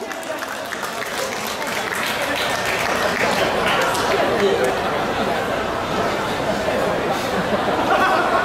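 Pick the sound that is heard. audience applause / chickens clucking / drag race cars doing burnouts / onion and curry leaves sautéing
audience applause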